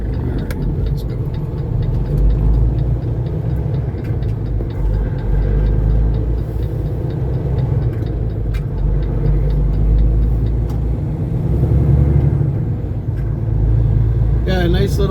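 A Canadian trucker's heavy truck engine pulls away from a truck stop, a loud, steady low rumble that swells as it gets rolling, with someone speaking over it.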